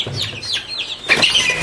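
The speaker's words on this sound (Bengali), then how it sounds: "আর এই যে মুরগির বাচ্চাগুলো আমার" Native (desi) chicken chicks near a hens' laying spot give quick, high, repeated peeping chirps, close and fairly loud, with a denser burst of overlapping cheeps in the second half.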